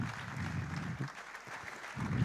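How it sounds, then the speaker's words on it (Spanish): An audience claps for a speaker at the opening ceremony of Mobile Week Alcalá 2022 in Alcalá de Henares, a steady, moderately loud round of applause filling the whole moment. "Un aplauso para ella."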